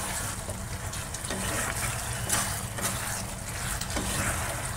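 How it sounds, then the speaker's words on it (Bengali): Meat curry with shahi garam masala fries in a pan on a home stove, a steady close sizzle and hiss that continues without a break and with no talking. "শাহি গরম মশলা দিয়ে দিলাম, দিয়ে এবার কষে নিয়ে জল দিয়ে দেবো।"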